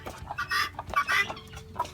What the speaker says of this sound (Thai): ตามชมไก่น้อยนะครับ